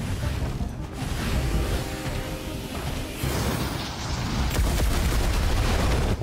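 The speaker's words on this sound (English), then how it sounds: "it was just a powered up shot that doesn't do too much more" Powered-up shot fired in the Cygnus Enterprises video game, a dense, loud blast of booming gunfire and crashing mechanical noise that runs continuously and swells in bursts, with no talking over it.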